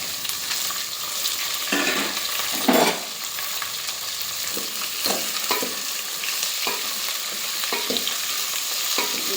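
Potatoes and mixed vegetables fry in oil for sambar, a steady close sizzle and crackle with a few louder stirring scrapes and clatters of the spoon in the pan, no voices.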